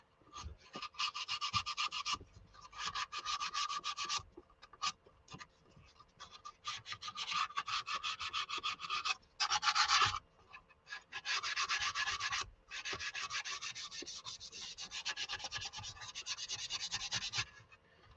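Steady hand sanding of wood, a continuous rubbing scratch in long bursts with brief pauses, close and fairly loud.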